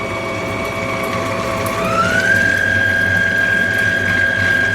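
A Chef Robot CR7 10-in-1 kitchen appliance running with water inside gives a loud, steady motor whine whose pitch climbs partway through and then holds.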